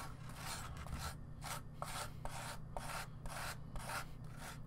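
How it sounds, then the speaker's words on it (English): A small spatula spreads MIG acrylic concrete mortar over carved foam cobblestones in a 1/16 scale diorama, a soft, close, rhythmic scraping rub repeating in short strokes about twice a second, with no voices. "Using just a little spatula here."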